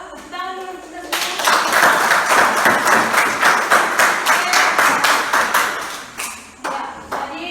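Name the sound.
class clapping hands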